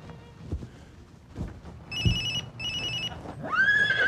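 A mobile phone rings in two short electronic trilling bursts, fairly loud and near, followed by a rising warbling tone over background rumble and movement.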